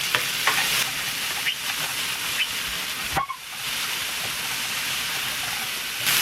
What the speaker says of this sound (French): vous allez remuer ça de façon à ce que les shirataki puissent sécher